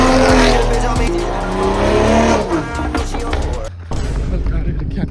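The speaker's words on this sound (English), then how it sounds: "Let's go hear my buddy's exhaust." A tuned Hyundai Elantra N's sports exhaust roars loudly nearby, revving hard with a rising pitch and a sharp crackling burst, then drops and surges again.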